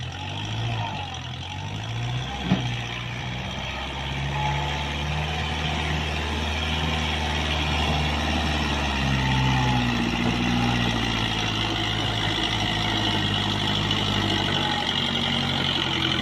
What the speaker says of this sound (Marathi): नंतर मी बसलो ट्रॅक्टर काढायला.